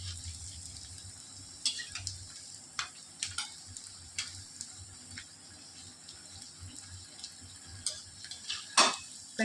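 Onion fritters (ulli vada) frying in oil with soft steady sizzling, punctuated by scattered sharp taps and scrapes as a utensil stirs them, close and fairly quiet.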